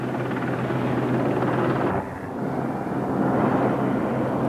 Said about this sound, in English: The helicopters, which had been moving equipment forward, now flocked to help rescue survivors.